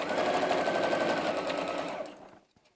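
A sewing machine runs a quick seam on a pieced Pies & Points quilt block, a fast steady needle chatter for about two seconds before it stops and fades, near and alone.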